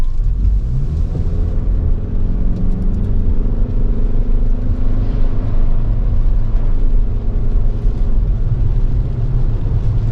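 A 2024 Toyota Venza XLE AWD accelerates on a wet road in the rain, a steady, loud engine and tyre rumble with road hiss that holds throughout.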